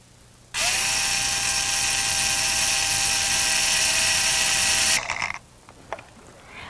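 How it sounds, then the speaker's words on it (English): A power drill with a 1/4 inch bit bores into a car dash panel: a sharp whine starts abruptly, holds steady and loud for about four and a half seconds, then cuts off, followed by a few light clicks. "With your 1/4 inch bit, drill a hole in the dash panel."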